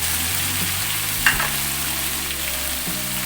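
Spice masala sizzles and crackles steadily in a hot pan, a continuous close frying hiss with a brief clatter of stirring partway through.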